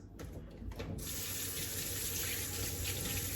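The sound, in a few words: tap water running while washing asparagus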